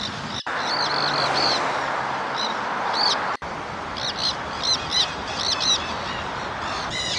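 A flock of parrots, such as monk parakeets and nanday parakeets, calling in a wooded city park in Palermo, Buenos Aires. Repeated shrill chirps come in bursts over steady ambient noise, some nearer and louder.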